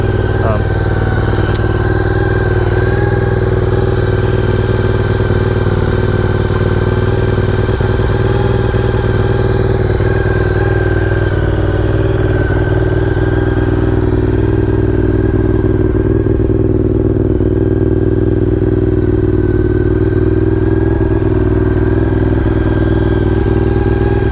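Honda RC51 motorcycle engine running steadily at a low, rumbling idle, loud and close, with some clatter.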